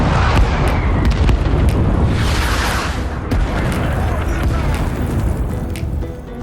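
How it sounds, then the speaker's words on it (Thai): A loud, sustained explosion in the video game Rising Storm 2: Vietnam, with deep rumbling booms and crackling debris filling the whole stretch, continuous and dense throughout. "ระเบิดลงว่ะ"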